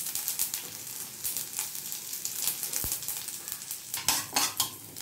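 Mustard seeds, urad dal, chilli and ginger fry and stir in hot oil, with a steady sizzle and crackle plus a few sharp spatula clinks against the pan.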